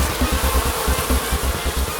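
Cartoon bees in Hunny Bunny buzz in a dense, loud, continuous swarm drone with a fast pulsing flutter, close up and without any voices.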